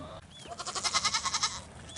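Wether goats bleat in a quick run of about eight rhythmic, wavering calls close by on a farm before being let out to pasture, with no talking.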